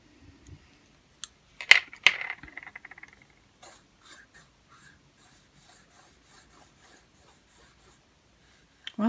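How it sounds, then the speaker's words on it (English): Soft graphite pencils scratch zigzag marks across paper, a quiet, close run of short rasping strokes, loudest early on and then fading into lighter, sparser scribbles. "sharpen them up nicely, ready to draw some zigzags"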